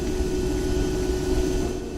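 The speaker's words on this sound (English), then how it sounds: "its gas turbine motor had fewer moving parts, reducing maintenance needs while delivering a futuristic hum" A steady, loud turbine engine hum with a high whine, droning continuously without change.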